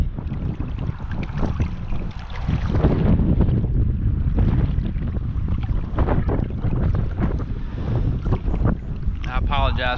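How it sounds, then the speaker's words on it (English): Gusty wind buffeting the microphone by the water while wading for flounder, rough rumbling bursts that rise and fall throughout, with faint splashing. "I apologize for the wind"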